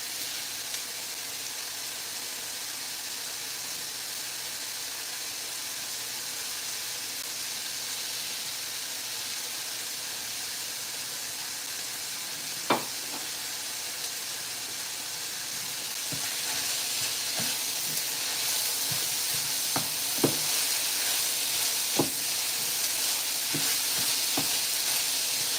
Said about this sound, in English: I'm gonna go ahead and just add the peppers in so everything could just take its time and cook